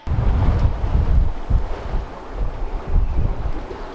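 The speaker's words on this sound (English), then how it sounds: "Still a few big waves behind us, but not too bad." Wind and big rough waves from the Atlantic batter a sailing boat out at sea, a loud, continuous rushing roar with heavy low-end buffeting and surging swells throughout.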